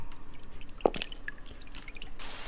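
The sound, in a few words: water poured from a water bottle in a video game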